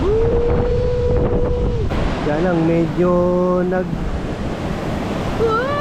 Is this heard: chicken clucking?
no